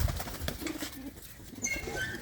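Domestic pigeons of prized breeds, clean white birds kept by a Punjabi fancier, coo softly and intermittently in a loft, with faint wing rustles and background noise, no talking.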